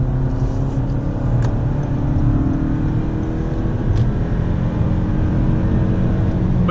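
A 2018 Toyota Camry accelerating hard onto a highway, heard from inside the cabin as a loud, steady engine drone with slowly climbing pitch over road rumble, no voices.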